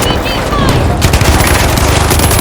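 Heavy gunfire and blasts from the video game The Finals, with an RPG being fired amid a dense, continuous barrage of shots and explosions, loud and close throughout, with some speech mixed in.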